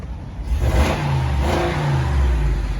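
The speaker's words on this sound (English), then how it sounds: "I'm gonna hold the phone out and hit the gas here." A Ram 2500 Power Wagon pickup with a 6.4 L Hemi V8 revs hard under the open hood, a deep throaty roar rising then holding steady, loud and close with a low rumbling undertone.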